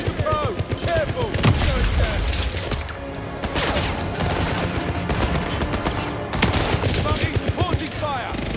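Dense automatic and rifle fire from the video game 007 First Light pours out in bursts alongside explosions and crashes, loud and continuous, with shouted combat voices mixed in over the barrage.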